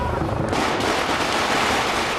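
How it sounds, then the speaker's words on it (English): Firecrackers going off outside the Chinese embassy as a premier arrives amid protesters, a loud dense crackle of rapid overlapping bangs, close and continuous for the whole stretch. "Explosive firecrackers greeted the arrival of Premier Wen Jiabao at the Chinese embassy"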